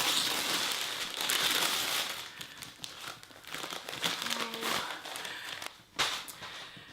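Packaging being ripped off a Chanel So Black Mini Chevron bag box, with continuous close crinkling and tearing noises, a few sharper rustles and a brief louder rip near the end.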